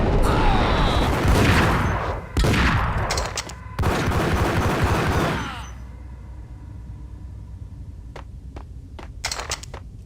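Loud bursts of gunfire from a crime-action film scene fill the first half, rapid overlapping shots with brief gaps, then fade to a quieter background with a few isolated sharp cracks near the end.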